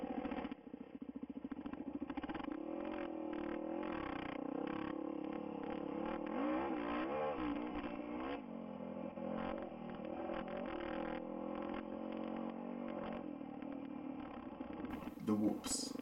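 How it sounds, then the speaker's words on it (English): Dirt bike engine running loud and steady throughout, revving and surging as the motorcycle rides through, with a continuous buzzing drone and a brief change near the end. "So Andy finally starts his bike back up and comes romping through."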